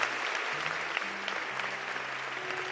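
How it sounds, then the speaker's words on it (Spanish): Audience applause at an outdoor town festival stage show during the 2023 Fiestas de la Virgen de San Lorenzo in Valladolid, a steady, dense wash of many hands clapping throughout with a low hum beneath. "un fuerte aplauso para ellas también."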